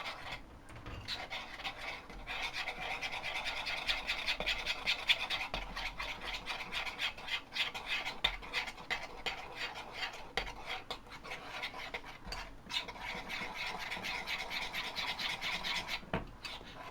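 Royal icing made from icing sugar is stirred steadily in a bowl, a continuous close rasping, scraping sound with small clinks of the utensil against the bowl's sides.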